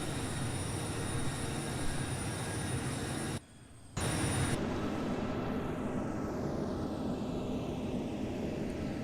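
An Airbus A318's engines drone steadily in flight in Flight Simulator X during a climb toward 10,000 feet, a constant loud cabin-like roar that cuts out briefly for about half a second before resuming.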